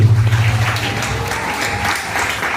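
Church congregation applauding after a sermon prayer, a dense steady clapping that fills the space, with a low sustained organ or keyboard tone underneath at the start.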